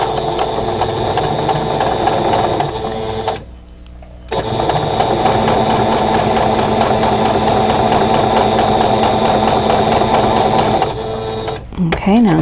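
A sewing machine set to a 2.5 stitch length with a quarter-inch presser foot runs close and loud, stitching fabric in a fast steady whir that pauses briefly midway and again near the end.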